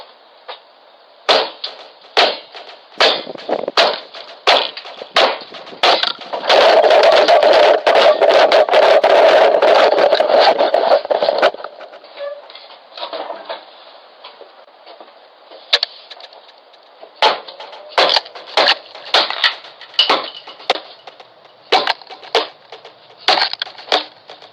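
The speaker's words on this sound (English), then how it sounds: "whacking the device with a hammer or broom handle" Repeated sharp whacks from a hammer or broom handle strike a Ring doorbell camera in irregular bursts, with a dense, rough stretch of crunching impacts in the middle, all loud and close.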